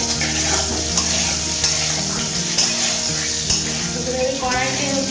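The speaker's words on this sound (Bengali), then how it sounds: "এখানে আলুগুলো ভেজে নিচ্ছি" Potatoes fry in a pan on a home stove, a loud continuous sizzle broken by a few metal stirring clinks and scrapes, close and without talk.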